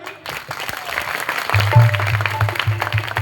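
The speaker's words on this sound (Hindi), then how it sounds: "एक बार जोरदार तालियां।" Applause at a Shardiya Navratri devotional gathering, a crowd clapping loudly and steadily for a few seconds with a dense, sustained wash of hand claps.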